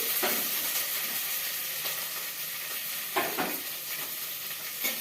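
Curry leaves, added after dried red chillies, fry in hot oil for a sour papaya curry, giving a steady sizzle with a few sharp spattering bursts and pops throughout, close and moderately loud, with no voices.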